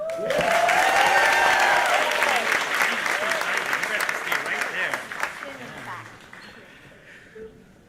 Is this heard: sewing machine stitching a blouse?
no